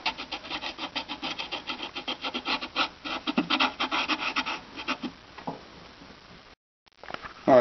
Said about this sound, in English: now we've scraped all the dry suspension remains off there